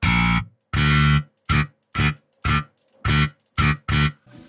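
A Dingwall six-string bass run through effects, on the Umansky Bass MIDI instrument, plays short distorted notes in bursts separated by silences. It is loud, close and alone, with no voice.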